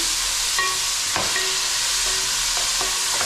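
Tomatoes and green chillies fry for a village-style mutton biryani, with a steady, loud sizzle filling the whole stretch and a few faint scrapes of stirring in the pan.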